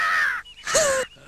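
A crow gives two harsh, close caws separated by a short gap, standing alone with no talk.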